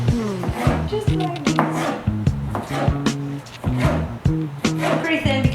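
A knife slices peppers thinly on a cutting board in a home kitchen, giving quick, regular taps in a steady rhythm, close and clear, under music and a speaking voice.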